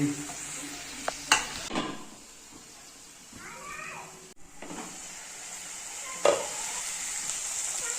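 Onion, curry leaves and chili fry in hot oil, giving a soft sizzle broken by a few clattering stirs and scrapes, with a brief quieter gap partway through and no clear speech.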